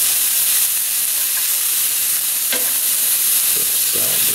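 Beef pieces for stew sear in a hot pan with a steady, loud sizzle and hiss that runs throughout, with a brief clatter of turning the meat midway.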